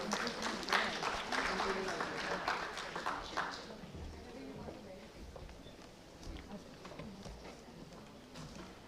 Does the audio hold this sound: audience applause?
yes